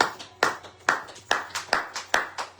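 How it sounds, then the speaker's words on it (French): A church congregation claps in praise of Jesus Christ. The claps are sharp, evenly spaced and close, keeping a steady beat of about two per second. "Acclamons pour Seigneur Jésus-Christ."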